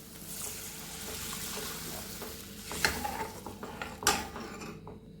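Water is poured into hot oil tempering for vermicelli. It makes a steady sizzle and bubbling, with a few sharp clinks of a utensil against the pan. The sound is fairly quiet and close, and no one talks.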